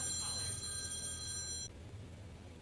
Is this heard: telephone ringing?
yes